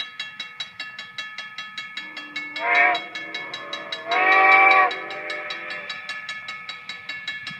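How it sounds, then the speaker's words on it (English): Steam locomotive 90 at Strasburg, Pennsylvania sounds its whistle in two blasts, a short one then a longer, louder one, over a steady rhythmic chuffing beat of the running engine. "Just blew its whistle."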